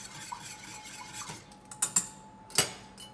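A spoon stirring a cornstarch and water mixture in a bowl, a few light clinks and taps that grow more distinct toward the end over a quiet hum, heard alone without talk.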